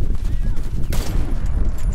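A single sharp sniper rifle shot rings out in the Warface video game, a brief loud crack amid steady game noise, with a person talking over it.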